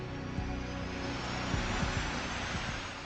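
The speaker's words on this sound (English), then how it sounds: "A shot of triethyl borane gas ignites the fuel, and the J-58 engines are started." Lockheed SR-71 Blackbird J-58 jet engines starting, ignited by a shot of triethyl borane, a steady loud roaring drone with low rhythmic thumps pulsing through it.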